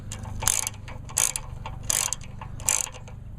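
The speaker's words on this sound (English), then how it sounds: "just go ahead and just break off these two bolts holding the carburetor on. They are a 10mm." A ratchet wrench clicks in four short, evenly spaced bursts as 10mm bolts holding the carburetor on a Troy-Bilt generator are loosened, close and clear over a low steady hum.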